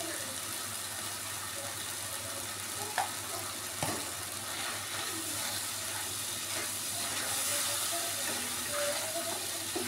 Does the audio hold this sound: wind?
no